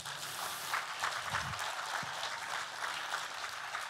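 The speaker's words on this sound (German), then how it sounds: "Nochmal Applaus" Steady audience applause fills the hall at a school-network state conference in Saxony-Anhalt, a dense, even wash of many hands clapping at moderate volume from start to finish with no talking over it.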